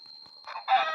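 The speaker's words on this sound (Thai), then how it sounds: "นี่ ไก่ ไก่" A Minecraft chicken from the video game gives a few brief, faint clucks, short chirpy bursts that grow a little louder toward the end, with no other sound around them.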